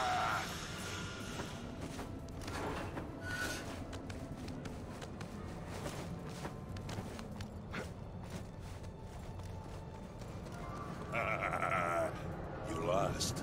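A pig in the video game Enslaved: Odyssey to the West gives animal-like squealing calls amid steady game ambience and movement, with voices talking over it.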